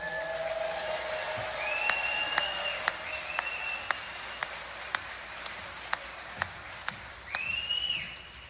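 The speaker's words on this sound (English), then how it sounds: "Let's give her a big round of applause" A crowd at a Donald Trump rally in Tampa, Florida applauds, with sparse, distinct claps ticking along at a steady pace and shrill rising whistles cutting in near the start and again at the end.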